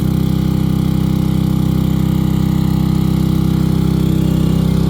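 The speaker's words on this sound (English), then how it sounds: "That motor's running pretty good RPMs." Hydraulic motor on an Eager Beaver hydraulic folding neck trailer runs at steady high RPM, a loud, even engine drone with a constant pulse throughout and no talk.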